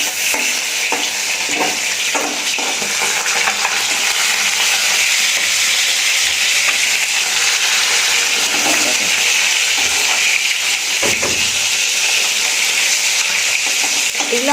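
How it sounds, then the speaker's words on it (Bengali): Fish frying in a pan gives a loud, steady sizzle with occasional stirring scrapes, heard close up and continuing without a break. "চলো, এই যে মাছ ভাজছি।"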